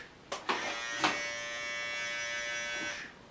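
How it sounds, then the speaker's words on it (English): A pair of clicks, then electric clippers shaving a dog buzz steadily for about three seconds before switching off; close and fairly quiet, no talking. "We can shave you if you want, Buggy."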